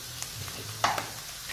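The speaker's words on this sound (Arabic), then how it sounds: "نزيد نقلي شويه هذيك الحميصه" Chickpeas frying with black pepper, salt and spices in a pan, a soft low sizzle with a brief stirring scrape, close and quiet.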